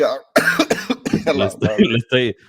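A person coughs in a harsh, rough burst, then keeps hacking and sputtering in a series of close, loud coughs.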